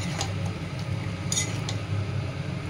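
Meat sautés in a pan with turmeric and a splash of water, producing a low, steady frying hiss with a few light metallic clinks of a utensil against the pan.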